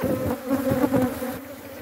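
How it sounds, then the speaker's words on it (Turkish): Agitated honeybees buzz loudly and close at an open hive, a dense, wavering drone with pulsing swells as the colony stirs. "Arı zaten dellendi, buduruyor."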